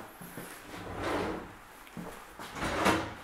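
Kitchen drawers in a large apartment kitchen being pulled open and pushed shut, a few soft sliding thumps and clacks spaced across a few seconds, moderately close with light room noise.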